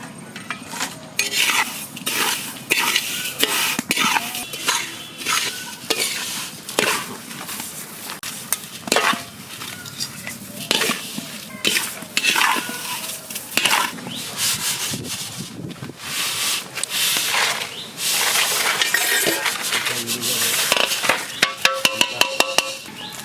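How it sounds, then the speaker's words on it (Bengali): Vermicelli being fried in ghee in a pot for a village-style Bengali milk kheer, heard as steady scraping and stirring with a spoon against the pot, repeated metallic knocks and a soft sizzle underneath, close and without talk. "ঘি দিয়ে ভেজে নেব।"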